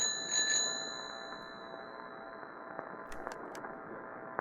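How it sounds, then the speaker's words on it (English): A bicycle bell rings a few quick, faint times inside the video game Loop Error, thin and distant over a low, steady background hum. "Is that a bike bell?"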